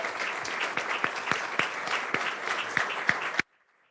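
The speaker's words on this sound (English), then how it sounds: "If we could all give them a round of applause for everything they do in our community." Audience at a city council meeting applauds, a dense burst of clapping for about three and a half seconds that stops abruptly.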